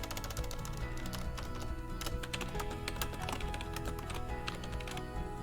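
Rapid, continuous clicking of keys on a computer keyboard, close and fairly quiet, with irregular bursts of taps running throughout.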